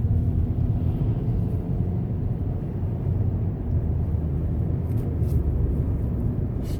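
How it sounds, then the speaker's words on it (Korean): Steady, loud tire roar and low road rumble from a car's rear tires, heard from inside while driving straight during a wheel alignment check for uneven tire wear, continuous with no talking. "뒤 타이어에서 소음이 엄청나게 올라오네"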